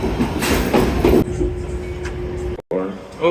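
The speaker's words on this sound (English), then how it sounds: "Now I'm at Path Journal Square, waiting for my train to World Trade Center." A PATH train pulls into Journal Square station with a loud rumbling roar and a steady metallic whine, then the noise drops off sharply, followed by a short burst of nearby talk.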